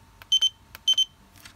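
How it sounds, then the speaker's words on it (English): A buzzer on a mutantC v3 modular handheld sounds two pairs of short, bright, close beeps, with a few faint clicks between them and no talk. "this is the buzzer."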